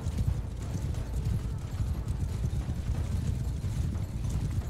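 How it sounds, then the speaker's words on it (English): A horse ridden through an orchard in Mount & Blade 2: Bannerlord gives a steady, dense clip-clop of hooves. The hoofbeats are loud and close and go on without a break, with no voices over them. "riding on your horse for that"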